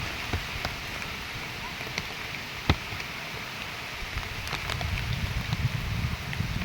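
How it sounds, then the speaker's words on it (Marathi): Stormy monsoon rain driven by strong wind over Konkan rice fields at transplanting time, a continuous hiss of drops on surfaces with occasional sharp taps and a heavier wind rumble building near the end. "जाम वार लागता आणि पाऊस पण तुफान इलो."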